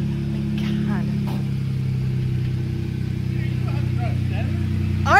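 A Jeep on 40-inch tires idles with a steady low engine rumble while people talk over it, and the engine rises slightly at the very end.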